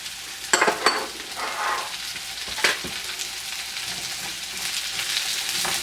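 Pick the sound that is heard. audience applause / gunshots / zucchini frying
zucchini frying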